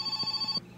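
A phone rings in the My Summer Car video game, a steady electronic ring with a bright tone that keeps pulsing briefly before cutting off, with no talk over it.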